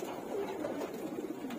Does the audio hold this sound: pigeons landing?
yes